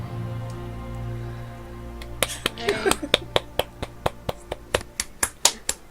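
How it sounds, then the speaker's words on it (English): A handful of tabletop game players start clapping after a low hum and quiet talk, sparse sharp claps arriving in a steady, close run that keeps going to the end. "Applause"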